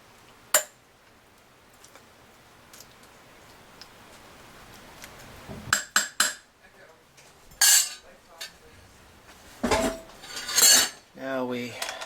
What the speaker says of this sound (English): Do a little bit more stirring.